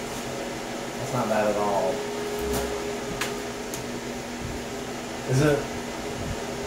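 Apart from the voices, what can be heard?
Terra Bloom 8-inch fan blowing air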